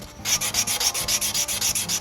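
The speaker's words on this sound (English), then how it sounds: "sand with the grain, with the sandpaper that we were just using" Sandpaper scrapes back and forth along the grain of a wooden pen blank in quick, even strokes, close up, with a regular rhythm of about six strokes per second.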